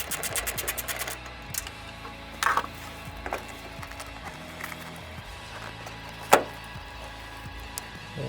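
Screws being removed from the tail lights of a 1998 GMC truck, with a quick ratcheting whir of a driver at the start followed by sparse clicks, taps and small clunks, close and fairly quiet.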